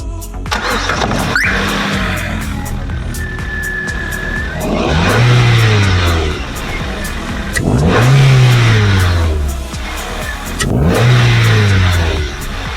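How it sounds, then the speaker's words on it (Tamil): A car engine cranks and catches, then revs up repeatedly in three rising-and-falling surges, loud and close. "வாங்க வண்டியை ஸ்டார்ட் பண்ணி பார்க்கலாம்."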